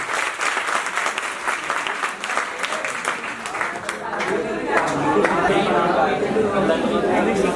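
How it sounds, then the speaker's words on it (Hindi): Dense, sustained crowd applause at a poetry recital (kavi sammelan) in a government college hall in Bulandshahr, welcoming poet Pushpendra Kumar; the clapping is close and continuous and swells louder in its second half. "आपकी जोरदार तालियां भाई श्री कवि पुष्पेंद्र कुमार जी को आमंत्रित करें"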